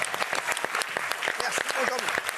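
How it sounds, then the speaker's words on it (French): Crowd applause claps away steadily while voices talk over it, the clapping loud and close throughout. "Applaudissements pour lui."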